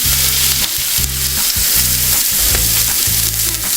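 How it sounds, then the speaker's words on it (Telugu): Fish pieces frying in oil in a pan at home, a loud continuous sizzle with recurring scraping stir strokes of a spatula, close up and without talk. "ఇంకాసేపు బాగా ఉడకనిద్దాం చేపని."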